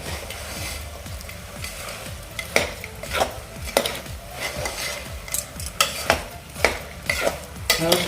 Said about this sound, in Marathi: आता हे आपण गूळ यामध्ये मिक्स करून घेऊया